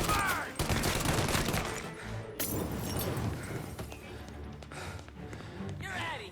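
Rapid bursts of gunfire fill a shootout in the video game Mafia: Definitive Edition. The loud volleys are dense and overlapping, and a voice speaks briefly amid the shots.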